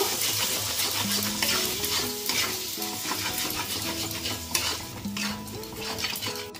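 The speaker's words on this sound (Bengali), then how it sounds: "এবার আমি মশলাটা ভালো করে কষিয়ে নেব।" Spice masala for a mutton curry is fried and stirred in a pan, a dense, constant sizzle layered with rhythmic scraping and clinking of the spoon against metal, fairly close and with no one speaking.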